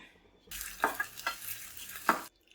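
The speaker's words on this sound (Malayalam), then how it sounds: "കുറച്ച് വെളിച്ചെണ്ണയിൽ ചെറിയുള്ളി വറുത്തിടാം." A burst of sizzling coconut oil as shallots drop into the pan, crackling for about two seconds with a few scraping stirs, then quiet.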